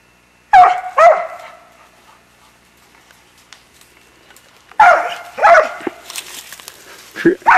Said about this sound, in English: Get him, Scout. Speak to him. Speak to him